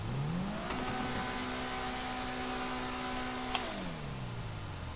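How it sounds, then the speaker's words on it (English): A car engine in GTA Online, a Vapid Retinue MK2 with a turbo, revs up, holds a high whine, then drops with a blow-off hiss and a sharp pop near the end, loud and alone. "Ooh, that was a nice blow-off sound. I like how it backfires a lot."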